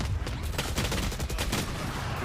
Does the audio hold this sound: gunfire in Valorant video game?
yes